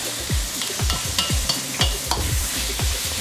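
Rice frying in oil over high heat while being stirred, a steady loud sizzle broken by repeated scraping strokes of the spatula against the pan, close up with no talking.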